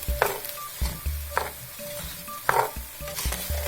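A ground mixture is stirred into Mexican rice in a pot, producing sizzling under a series of spoon scrapes and knocks against the pot, with no voices.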